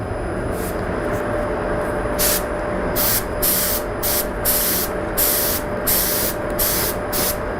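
A spray gun shades TransTint dye onto a guitar around the peg head, giving repeated short hissing bursts in an uneven rhythm over a steady background hum, close and moderately loud, with no talking.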